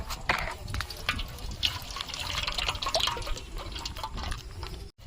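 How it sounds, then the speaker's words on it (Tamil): Oil is poured into a pot to heat for frying boondi, a close trickling and splashing pour that runs for several seconds with faint background noise. "இப்போ எண்ணெயை ஊற்றிக்கலாம்."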